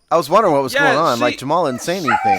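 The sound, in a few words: dog barking and whimpering at a dog outside window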